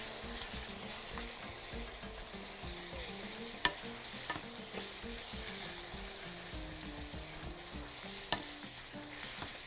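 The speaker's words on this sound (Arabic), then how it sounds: "نقلب كده الفراخ نبتدي بقى نحط المرقه" Chicken sizzles in a frying pan as a utensil scrapes and stirs it, with a continuous crackle and a few sharp clicks of metal on the pan. No one talks.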